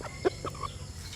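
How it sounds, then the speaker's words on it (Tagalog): Chicks giving a few brief, soft peeps and chirps close by over a faint background, lasting about a second. "At meron akong mga sisiw dito na"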